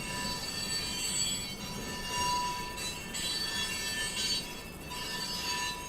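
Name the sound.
train going by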